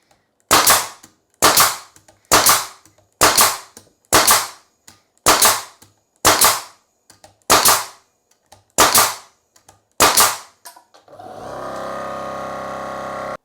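A pneumatic nail gun running off a Milwaukee M18 Fuel compact quiet compressor fires nine sharp, evenly spaced shots. The compressor motor then starts up and hums steadily.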